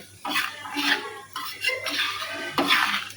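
Turmeric and coriander-cumin spice powder are stirred in a pan for a masala capsicum dish, about four close scraping strokes of a spoon against metal in quick succession, with no voices.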